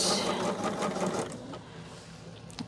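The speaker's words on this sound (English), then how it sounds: "Whew, I thought I was sewing it the wrong direction." A sewing machine stitches a quilt top in a steady, close, continuous run, the motor whirring loudly at first and easing slightly toward the end.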